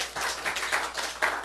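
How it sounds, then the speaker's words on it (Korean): A church congregation claps together after a Korean Sunday sermon, a short burst of uneven rhythmic clapping with a few stronger accented claps toward the end, heard fairly close with no speech. "우리 하나님께 박수 올려드립니다."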